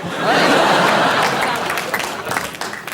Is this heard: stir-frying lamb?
no